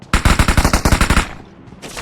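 Rapid automatic gunfire in a squad-versus-squad online shooter match, a close burst of about a dozen sharp shots in quick rhythm lasting roughly a second, followed by a quieter tail; no speech over it.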